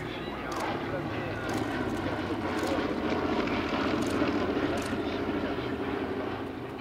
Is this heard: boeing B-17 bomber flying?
yes